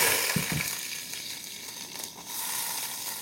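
Onions, small onions and curry leaves hit hot oil in a pan for a coconut-milk ponyfish curry, giving a steady, close broadband sizzle with a few soft knocks near the start.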